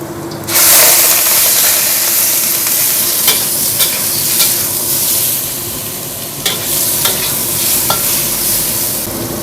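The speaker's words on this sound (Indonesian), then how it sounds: "Sekarang saya mau tumis udang pakai asparagus." Shrimp and asparagus stir-fry loudly in a hot pan, a dense steady sizzle broken by scraping stirs and occasional clanks, close and alone without speech.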